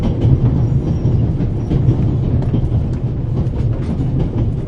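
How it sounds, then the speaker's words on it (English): The Orient Express train in the video game The Raven, a continuous low rumble of rolling carriages with faint rhythmic clatter, steady and close. "This train began in Paris and ends in Istanbul, as usual."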